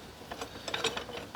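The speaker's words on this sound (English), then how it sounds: "let's see if I can get a nut started" Faint clicking and light metallic ratcheting while a nut is started onto a blade bolt, a brief cluster of small clicks close by with no talking.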